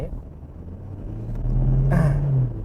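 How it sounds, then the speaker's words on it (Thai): A Toyota Hilux Revo Z Edition pickup with an ECU tune builds engine rumble as it accelerates, heard from inside the cab. The drone swells and rises, then a brief hiss cuts in near the end. "เดี๋ยวลองดูอัตราเร่งดูว่าจะแตกต่างจากเดิมไหม"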